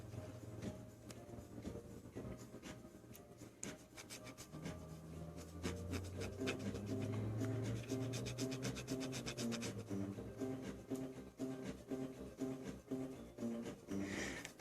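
An eraser rubs back and forth on the contacts of a 1990 Nintendo cartridge circuit board, a quiet, steady rhythmic scratching that speeds up in the middle, close and faint, with no talking.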